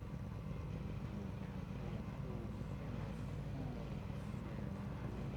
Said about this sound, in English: You can hear them just idling over nicely.